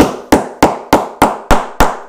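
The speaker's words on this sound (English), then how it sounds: "And then I just use a small hammer," A small hammer strikes a metal snap set on fabric seven times at a steady, even pace, each blow a sharp, loud, close tap with a short decay.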